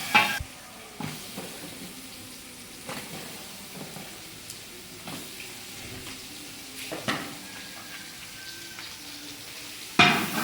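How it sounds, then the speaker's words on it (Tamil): Tomatoes fry in a pan with chilies and white and green pepper for country chicken chops, a steady close sizzle broken by sharp knocks and scrapes of stirring. "இப்போ தக்காளி அதுக்கப்புறம் நம்ம வறுக்கிறது எவ்வளோ பாருங்கள்"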